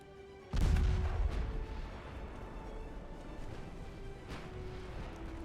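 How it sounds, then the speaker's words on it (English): Battleship main guns firing armor-piercing shells in the naval game Ultimate Admiral Dreadnoughts, set in 1906: one sharp, heavy boom that rolls off into a long rumbling tail, with softer distant thuds afterward. "We'll just shoot AP at them for a little while."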